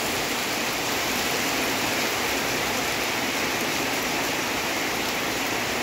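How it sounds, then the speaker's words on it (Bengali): A heavy monsoon downpour roars outdoors near a house under construction, a dense, unbroken hiss of rain hitting surfaces, loud and steady with no voices. "অনেকক্ষণ থেকেই টিপটিপানি বৃষ্টি হচ্ছিল, কিন্তু এখন মুষলধারে নেমে গেল।"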